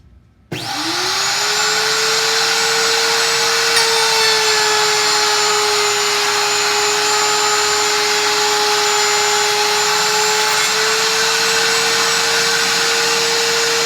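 A wood router cuts a rabbet joint, spinning up abruptly and then holding one loud, steady high whine for the rest of the stretch.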